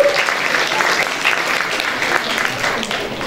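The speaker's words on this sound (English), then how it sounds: "huge round of applause" A dense, steady burst of applause from a large crowd at a literary festival, filling the whole stretch with continuous clapping at an even level.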